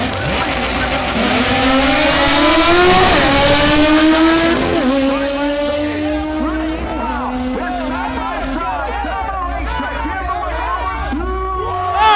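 Race cars accelerating hard at a drag racing track during a piston racing final, loud rising engine roars with gear changes over a crowd, fading slightly toward the end.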